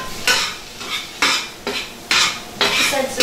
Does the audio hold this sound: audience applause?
no